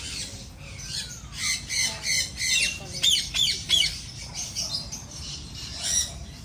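Several aviary birds squawking and screeching in rapid repeated calls, loud and close, over a steady rustling background.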